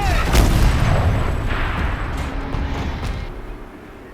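Heavy weapons boom and rumble in the video game Horizon Zero Dawn Remastered, a loud, dense barrage of low blasts with sharp cracks that fades gradually over four seconds.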